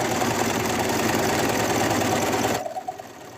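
A sewing machine runs a tight stitch through lace on a plush toy: a fast, steady mechanical whir that holds for about two and a half seconds, then cuts out.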